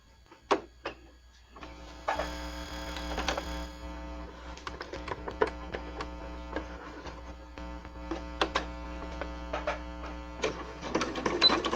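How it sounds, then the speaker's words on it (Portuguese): Sewing machine stitching bias tape for a bunting project, running in bursts of rapid mechanical stitching with brief pauses, close and moderately loud. "Vou começar a costurar aqui."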